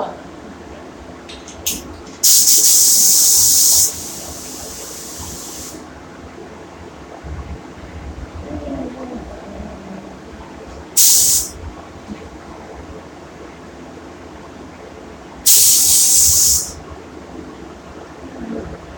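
An airbrush spraying white paint onto a mailbox gives three bursts of steady, close hiss separated by pauses, the first and last each lasting a second or more, over a quiet room background.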